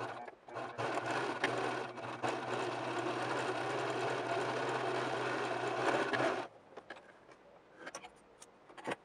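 A sewing machine runs a zigzag stitch joining lace bra cup pieces for a gown bodice, a fast, steady mechanical whir lasting about six seconds before it stops and a few faint handling clicks follow.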